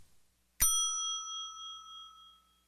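A single bicycle bell strike sounds close and clear after a brief quiet, its bright metallic ring lingering and slowly fading over about two seconds.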